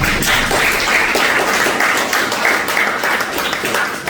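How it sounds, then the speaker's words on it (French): Warm applause from a game show studio audience for a departing contestant, dense clapping that stays loud and even throughout with no talk over it. "Applaudissez-le quand même chaudement."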